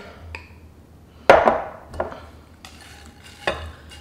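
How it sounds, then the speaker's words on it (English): Banana pieces and bacon being folded by hand into banana bread batter, heard as one solid scraping, thudding stroke followed by a few lighter, softer folding scrapes, close and with no voices. "We're going to go ahead and fold in our banana and our bacon."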